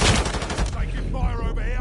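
Rapid automatic gunfire from Call of Duty Modern Warfare crackles loudly in a dense burst at the start, then fades as in-game radio voices take over.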